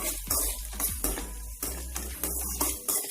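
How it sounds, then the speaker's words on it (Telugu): A utensil stirs okra fry with salt in a pan, scraping and tapping in a quick, steady rhythm of soft repeated strokes close by. "సాల్ట్ వేసుకొని చక్కగా కలుపుకుంటే బాగుంటుంది"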